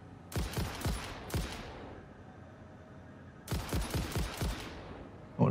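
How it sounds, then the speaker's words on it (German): A weapon in the video game Satisfactory fires in rapid bursts of sharp, reverberant shots: a few quick volleys, a pause, then another burst, each loud and close with echoing tails. "Ich habe einen Schuss verschwendet."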